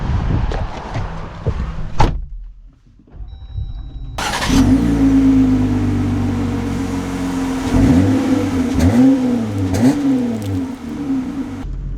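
A 2024 Jeep Gladiator Sport pickup. A door thuds shut nearby, a short quiet follows, then the engine starts and settles into a steady idle with mild revving swells.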